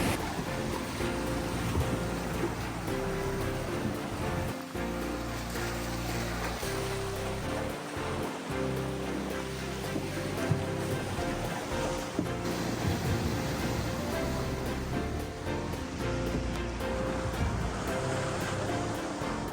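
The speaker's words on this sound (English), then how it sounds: "the waves are pretty high" Steady roar of surf and crashing waves with strong wind noise, continuous and loud throughout.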